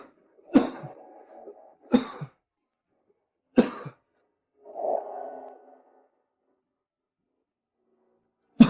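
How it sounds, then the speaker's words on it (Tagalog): A few separate coughs ring out with quiet gaps between them, plus a short muffled throaty sound, nearby in an otherwise silent room. "Ubo."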